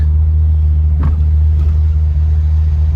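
Steady low engine drone from a 1997 Ferrari 355 six-speed Spider driven top down, a continuous loud rumble with brief mid-range bumps around each gear change, no talking.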